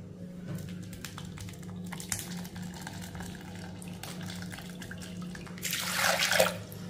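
Liquid poured into a strainer lined with thin white cloth while preparing a weight-loss drink, a soft trickle and patter over a low hum, swelling into a louder splashing pour near the end.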